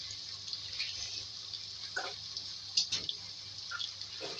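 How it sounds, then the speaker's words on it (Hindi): A small splash of water goes into a sizzling masala of cumin seeds and coriander powder for aloo band gobhi gravy: faint, intermittent trickles and drips over a steady low kitchen hum. "पानी ऐड करेंगे इसमें बिल्कुल थोड़ा सा।"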